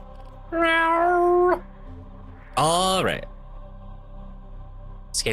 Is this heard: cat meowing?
yes